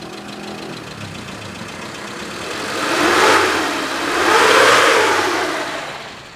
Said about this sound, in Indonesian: Jadi ini mobil suaranya langsamnya masih enak, kita geber pun masih enak